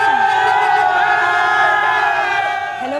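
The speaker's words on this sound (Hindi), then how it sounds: "काफ़ी भीड़ है इस फिल्म को देखने के लिए।" A packed crowd at a cinema hall showing the Pathaan movie in Bhopal cheers and whoops loudly and continuously, a dense roar of voices sustained for several seconds.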